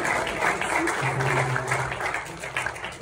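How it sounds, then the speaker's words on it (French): An audience at an entrepreneurship conference gives a continuous round of applause for a presenter. Dense clapping runs throughout, with voices mixed in underneath. "Pour vrai, on peut l'applaudir."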